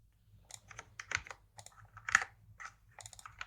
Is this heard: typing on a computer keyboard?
yes